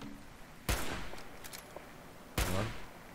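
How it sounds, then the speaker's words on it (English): Two sharp gunshots in Fallout 4, each a loud close crack with a short decaying tail, spaced under two seconds apart over quiet game ambience. "And a shot. Another shot."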